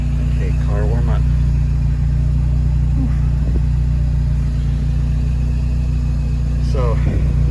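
A Scion xB idles while warming up, its low engine rumble holding steady and loud close by, with someone talking briefly over it.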